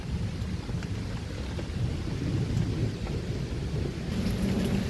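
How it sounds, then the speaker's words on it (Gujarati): Light rain falls steadily outdoors in a sudden unseasonal summer storm with wind, a continuous soft hiss of drops, with deep rolling thunder rumbling underneath throughout. "તો ધીમો ધીમો વરસાદ શરૂ છે"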